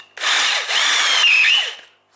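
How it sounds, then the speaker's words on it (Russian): A larger drill bit bores through a ball joint rivet on a Chevrolet Lanos front suspension control arm, one short, loud, close whirring burst that spins up and winds down, with no talking. "Отлично. Взяли еще сверло побольше."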